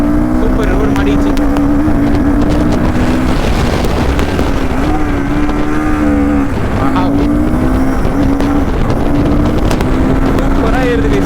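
A Royal Enfield Guerrilla 450 motorcycle climbs uphill with a steady engine drone whose pitch rises and falls with the throttle, carried under constant wind buffeting and a rider talking.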